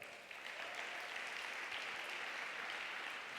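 Church congregation clapping in applause, a dense, even wash of many hands that holds steady throughout, moderately distant and without speech over it.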